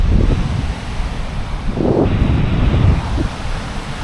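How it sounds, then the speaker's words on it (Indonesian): Surf washes steadily onto a quiet beach near Ngambur on Sumatra's west coast, mixed with gusty wind noise and no voices. "Jadi inilah suasana pantai deket Ngambur ya teman-teman."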